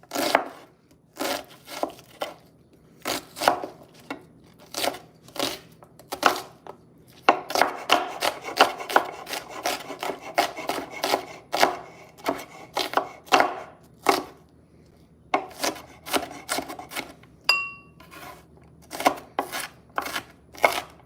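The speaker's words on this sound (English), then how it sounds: "I'm going to dice it and slice it really small." A knife dices and slices food into small pieces on a cutting board, with rapid, sharp chopping strokes in close, steady bursts and short pauses between runs, no talking.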